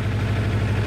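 A Kawasaki GPz900R motorcycle engine idles steadily after carburetor balancing, a loud, close, even low hum with a fast regular pulse in a short stretch.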